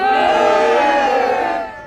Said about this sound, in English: the people who supported women's suffrage booed the boozers